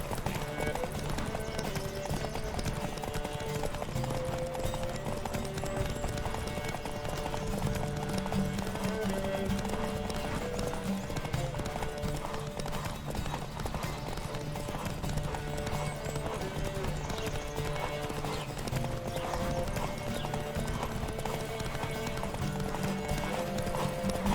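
Horse hooves clip-clopping steadily through a galloping race in The Witcher 3, with occasional whinnies over a constant bed of game music throughout.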